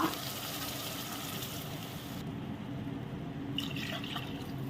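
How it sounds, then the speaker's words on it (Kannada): Water is poured into a pan of vermicelli that has been fried until brown, for semiya payasam. A steady, soft liquid rush and fill sound gives way to faint sizzling bubbles, heard close with no talk. "ಇದಕ್ಕೆ ಸೇಮ್ ಕಪ್ಪಲ್ಲಿ ಒಂದು ಎರಡು ಕಪ್ಪಿನಷ್ಟು ನೀರು ಹಾಕುವ"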